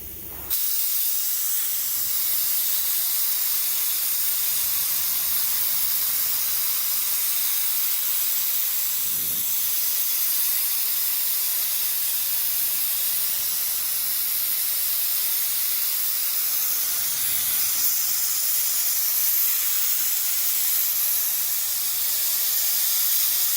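White paint sprayed onto a Ford F100 truck bed, a steady continuous hiss lasting throughout, loud and close with no talking.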